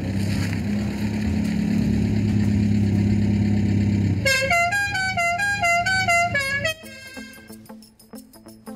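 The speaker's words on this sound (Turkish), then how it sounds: "Nurten, Allah'ım ya, kafamdaki ateş parçasının gürültüsünü, sesini, kornasını duyuyorum Nurten ya." A car horn honking in a village setting: a long sustained low blaring tone that then turns into a rapid stepped melodic horn tune, loud and close, with no speech.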